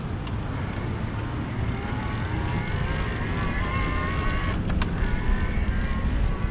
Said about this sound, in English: Hear the motor going a little bit